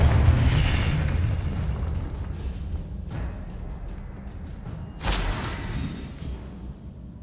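A Confringo spell blast in Hogwarts Legacy, a booming explosion that decays into a rumbling tail, followed by sharper bursts and a second louder impact near the end, with no voices.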